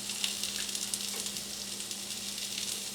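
Potatoes frying in beef fat in a pan, a constant bright sizzle with a faint low hum underneath, steady and close, with no talking.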